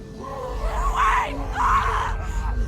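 A girl in The Walking Dead video game screams for help in two long, desperate, distorted cries over a low droning background, loud and alone without other speech.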